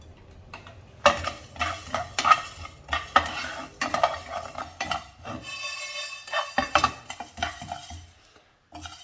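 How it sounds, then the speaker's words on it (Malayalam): Coriander and fenugreek seeds are roasted in a pan and stirred with a utensil, producing close, uneven scraping and rattling strokes with a light sizzle underneath and a few brief pauses. "ഇതിലേക്ക് 1/4 ടീസ്പൂൺ ഉലുവയും കൂടെ ചേർക്കാം."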